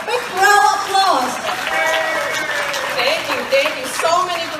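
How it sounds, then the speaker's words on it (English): An audience at a Vietnamese community event claps in a steady patter of applause, loud and close, while a voice talks over it in places. "Everybody give the please give us a big round of applause."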